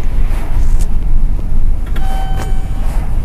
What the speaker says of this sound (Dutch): Nu gaan we met deze lift.